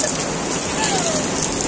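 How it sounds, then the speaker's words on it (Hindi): Heavy rain at Sukhna Lake pours in a dense, steady hiss of countless drops, loud and close, without a break. "बारिश बहुत तेज हो रही है"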